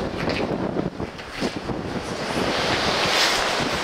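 Ocean surf surging below the Sutro Baths observation platform in San Francisco, a steady close roar of breaking and falling water with rushing wind noise across the microphone, growing fuller toward the end, no voices.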